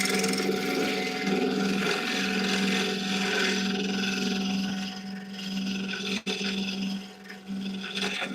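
A burl wood bowl spinning on a wood lathe, a steady rubbing, rasping hum close up with a constant motor tone, dipping briefly near the end.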